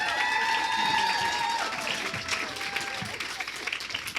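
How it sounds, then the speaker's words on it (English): An audience at a university event marking a $101 million donation to the Montana State University College of Nursing claps steadily, with a voice talking over the applause and a faint ringing tone at the start. "I cut off Waded's applause there, so let's give it up."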